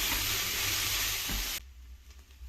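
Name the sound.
onions sautéing until golden brown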